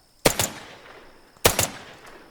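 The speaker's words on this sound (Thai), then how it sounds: "ปืนยิงไม่ตรง" Two short, loud bursts of gunfire from a zombie shooter video game, each a quick double crack about a second apart with a brief echoing tail.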